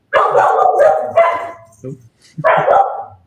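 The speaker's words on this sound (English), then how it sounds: "That's not me. So No, I know that sound. That's Jim's dogs." Dogs bark in loud bursts close by, one long run of barks followed by a pause and another burst, set against a quiet room.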